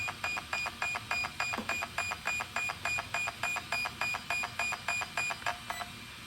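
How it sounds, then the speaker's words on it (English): Electronic speed controller in an Arrma Senton 3S 4x4 RC truck during neutral throttle calibration emits a long run of evenly spaced, sharp high beeps, about three per second, close and clear with no talk over them. "So now we got one beep, and that's neutral."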